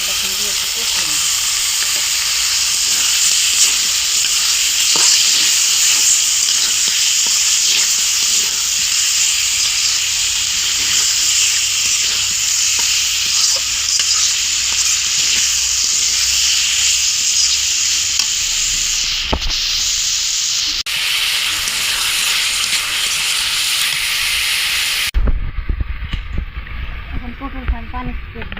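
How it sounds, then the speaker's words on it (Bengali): Chicken pieces being kosha-fried in hot oil in a pan: a loud, steady sizzle with occasional stirring scrapes that runs on continuously, then cuts off abruptly near the end. "খুব ভালোভাবে এই মাংসটা এখন দিয়ে একটু কষিয়ে নিই।"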